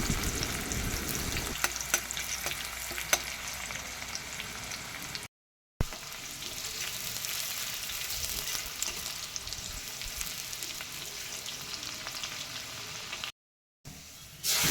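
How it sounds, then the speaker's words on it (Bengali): Chopped onions frying in tempered oil for a Bengali fish curry with potato and eggplant, a soft steady sizzle with occasional stirring clicks, cut by two brief silent gaps, no speech. "পেঁয়াজ কুচিটা একটু লাল লাল করে ভেজে নেব"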